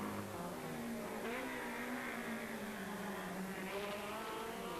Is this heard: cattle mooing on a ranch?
no